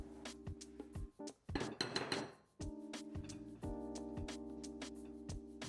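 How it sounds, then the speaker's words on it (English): Funnel cake batter is mixed in a bowl, a utensil clinking and tapping the sides in a fast steady rhythm with a brief wetter scraping burst, close and without talk. "slowly add the dry ingredients to the wet ingredients while continuously mixing until the batter is nice and smooth"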